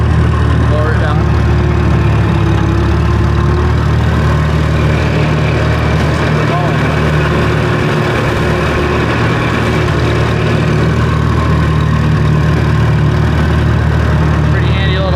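A Farmall tractor engine runs steadily with a hydraulic mower engaged, a close, even low rumble that holds without a break from start to finish.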